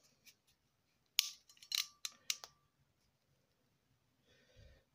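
A ratchet crimp tool closes on an ordinary ring terminal: a few sharp, close metallic clicks and snaps in a quick cluster near the middle, followed by a faint rustle, with quiet surroundings.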